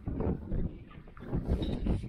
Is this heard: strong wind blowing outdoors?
yes